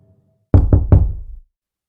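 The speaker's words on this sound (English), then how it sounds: "I still hear the knock in my dreams. 3 soft taps." Three soft knocks on a door in quick succession, each a dull thud that rings briefly before fading into silence.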